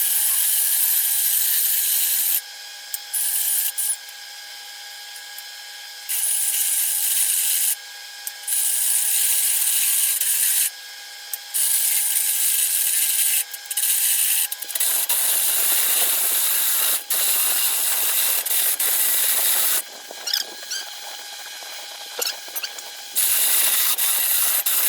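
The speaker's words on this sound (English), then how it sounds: "If you keep drilling, it'll make the hole wider and wider" A drill fitted with a step bit grinds a hole wider for a go-kart pipe, coming in loud bursts of rasping, whirring cutting broken by short pauses, with the pitch turning rougher and noisier toward the end.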